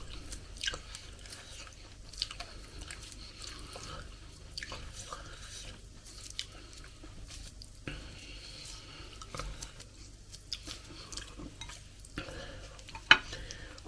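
A big mouthful of Ghanaian food is bitten and chewed close to the mic, with wet smacking, crunching and scattered clicks in otherwise quiet surroundings, without any speech.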